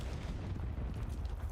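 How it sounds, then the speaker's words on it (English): A frag grenade goes off in Call of Duty during a League match on a train track map, heard as a dense, loud rumble of explosive noise lasting throughout. "And even the explosion of a frag grenade has not stopped the LA Thieves on this literal train track."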